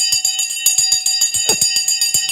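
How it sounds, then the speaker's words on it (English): An electric bell rings in a rapid, continuous rattling trill, loud and close, running for about two seconds with no voices. "oh my God, the bell's gone."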